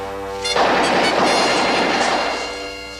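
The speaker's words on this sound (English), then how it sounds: "it sounds like machine gun fire" A sudden burst of machine gun fire erupts and rattles on for about two seconds as a loud, dense wash, with a sustained musical tone running beneath it in a 1960s naval comedy scene.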